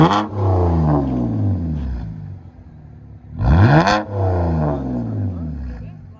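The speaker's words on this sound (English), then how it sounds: "BMW 328i. Straight pipes." Close, loud revving from a 2011 BMW 328i 3.0L straight-six on straight pipes: a rumbling idle swells into a sharp rise and falls back, then a second sharper rev near the middle before settling to a throaty drone.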